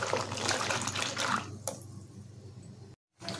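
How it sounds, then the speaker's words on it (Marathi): Cracked jackfruit seeds being washed in water in a kitchen: soft, close sloshing and squishing with splashes, fairly quiet, broken by a short pause near the end. "त्याच्यामध्ये पाणी टाकून ते स्वच्छ धुवून घेते।"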